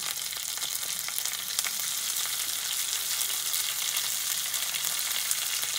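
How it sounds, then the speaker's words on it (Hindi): Curry leaves and chopped green chili fry in hot oil for a Gujarati khaman dhokla tempering, giving a steady, dense, close crackling sizzle that runs unbroken throughout with no voices. "सबको फ्राई होने देंगे"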